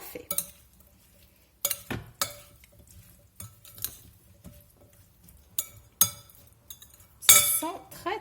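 Cherry tomato and feta salad dressed with coloured vinegar being stirred in a dish, giving scattered light clinks and scraping taps of a utensil against the bowl at irregular intervals, with a louder clatter near the end.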